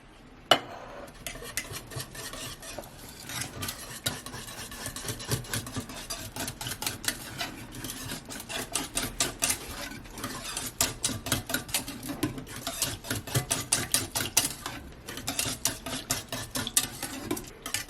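Kimchi ingredients with Himalayan black pepper being mixed in a bowl, giving a steady run of close clinking, scraping and stirring sounds that grow busier and louder over time, with no voices.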